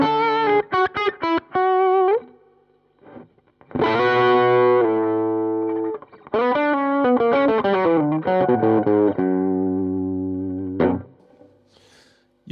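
An electric guitar runs through a Nepomuk Big Muk overdrive pedal with the treble turned mostly down and the mids pushed, playing a quick run of notes, then longer sustained chords and phrases, with a thick, creamy distorted tone and short gaps between.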